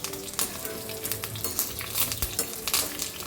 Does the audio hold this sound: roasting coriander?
yes